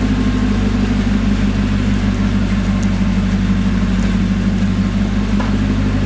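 A straight-piped Lexus 1UZ V8 idles smoothly with a steady, loud, low rumble that holds constant from start to finish, with no voices.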